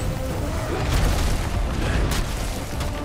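A monster's paw slams the ground and sets off an explosion in the video game Monster Hunter: World, a loud, dense rumbling blast with sharp bursts and crackles layered over continuous battle noise.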